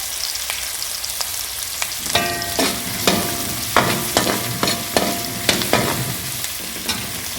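Chopped onion, ginger and garlic fry in a pan, a steady sizzle broken by a regular series of sharp scraping and clanking stirring strokes, close and fairly loud.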